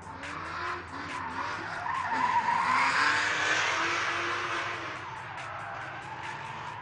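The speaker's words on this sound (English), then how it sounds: "V8 powered FCR X7." V8-powered FCR X7 drift car sliding through Formula Drift qualifying at Long Beach, California, in 2011, tires squealing in a long, swelling skid under a droning engine, loud and passing close by.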